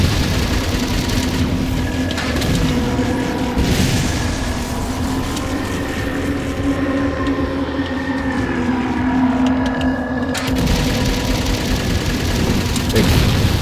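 Fuel rod gun firing in Halo 4, a continuous heavy booming roar with layered explosions and whooshing tones that rises and falls, loud and close, with no talking.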